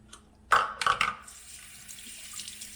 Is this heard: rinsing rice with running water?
yes